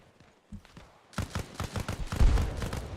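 Rapid bursts of gunfire in the military shooter game Arma Reforger, starting sparse and quickly building into a loud, dense fusillade of overlapping shots that peaks near the end.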